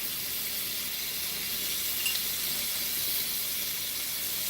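Shrimp laid into a garlic-coated skillet give a steady, soft sizzle and hiss, faint and continuous with no talk.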